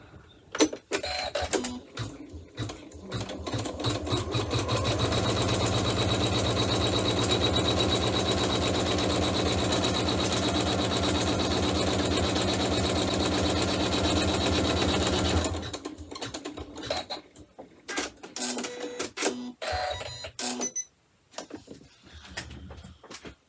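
An embroidery machine stitches a section of a pouch beside the zipper, its needle whirring in a steady, loud, continuous run for about ten seconds between shorter bursts of clicking and start-stop motor noise.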